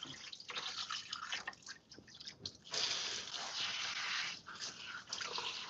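Water rinsing a wig, a soft wet splashing and dripping that runs steadily and quietly, with a slightly fuller gush partway through and no talking.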